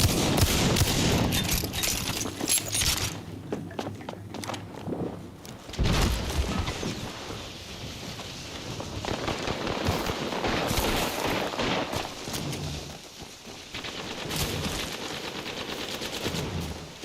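Dense Apex Legends firefight with rapid automatic gunfire and sharp smart-bullet shots, loud and sustained bursts with brief lulls, heavy impacts layered throughout.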